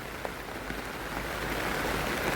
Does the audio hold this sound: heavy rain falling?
yes